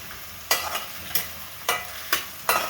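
Mushroom and pea curry base browning in a pan, four sharp stirring strokes spaced about half a second apart, each bursting into sizzle over a low background hiss, close and alone.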